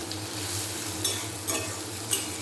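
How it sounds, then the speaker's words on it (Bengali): Onions and whole spices fry in hot oil with a dense, even sizzle, broken by three short stirring scrapes at regular intervals, near and steady, no voices. "তো চলো ভালো করে ভেজে নিই এখন"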